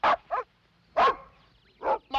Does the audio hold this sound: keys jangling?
no